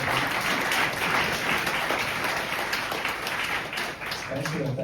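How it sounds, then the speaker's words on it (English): A design systems meetup audience at IBM gives the presenters a sustained round of applause, dense clapping throughout, with a voice starting to speak over it near the end. "Round of applause now."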